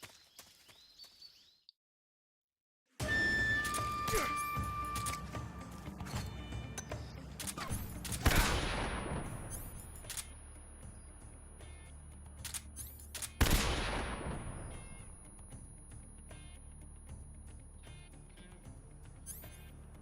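Gunshots during the Ocelot boss fight in Metal Gear Solid: two sharp, loud reports a few seconds apart, each with a long ringing tail, over a steady game soundscape with mechanical clicks, after a brief silence at the start.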